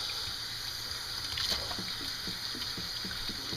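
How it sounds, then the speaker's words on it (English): Amaranth grains being rinsed in water, a steady low trickle and sloshing with soft repeated splashes as the tiny seeds are swirled and washed, close and continuous with no talking. "do a really good rinse"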